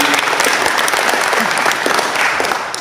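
A loud, dense round of applause from a club meeting crowd fills the room, sustained and even for the whole stretch before easing slightly at the end.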